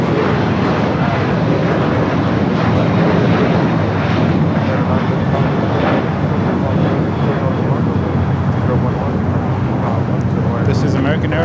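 A jet airliner at Los Angeles LAX rumbles steadily on the ground as it begins to taxi, a loud continuous engine roar with broadband noise that holds for several seconds.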